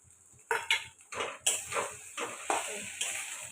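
Fried potatoes stirred into a soybean curry in a cooking pan, giving a series of close metallic scrapes and clatters of a spoon against the pan at an irregular rhythm, with no talk.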